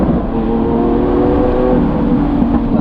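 Lamborghini Aventador S convertible engine droning loudly and steadily from inside the open-top cabin while driving, a continuous deep roar with harmonic tones and no talk.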